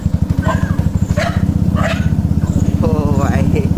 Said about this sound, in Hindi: बहुत कुत्ते हैं इधर, भौंकेंगे अभी गाड़ी देख के